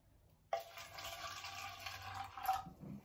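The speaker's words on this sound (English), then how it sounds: "Okay, and I'm going to mix it with water." Water runs from a bathroom tap to be mixed half and half with bleach for bleaching jeans. The steady gushing starts abruptly after a brief quiet moment and continues without speech.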